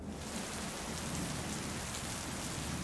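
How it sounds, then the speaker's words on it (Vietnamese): A cartoon sound effect of steady rain pours down as a continuous, even hiss of falling drops, moderately quiet and unbroken for the whole stretch. "Sao tự nhiên đổ mưa vậy chứ?"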